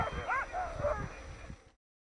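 Greenlandic sled dogs from the East Coast bark and yip in a brief, overlapping flurry of excited calls that cuts off abruptly.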